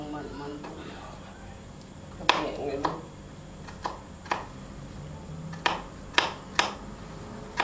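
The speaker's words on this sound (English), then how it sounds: "So now she's just dicing it. It's called dicing. Just cutting it into small little squares." A knife dicing vegetables on a cutting board while making an omelette, a handful of sharp, close chops in an irregular rhythm against a soft room background, with voices faintly underneath.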